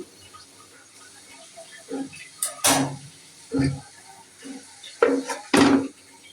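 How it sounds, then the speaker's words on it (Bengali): A metal lid settles onto a cooking pot during preparation of a raw banana and egg dish, giving several sharp clanks and rattles spaced a second or so apart, close by, with no voices. "এখন আমি ঢেকে দিব।"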